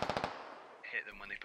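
Rapid bursts of automatic gunfire in the tactical shooter game Squad, a quick volley of sharp cracks followed by more scattered shots, moderately loud.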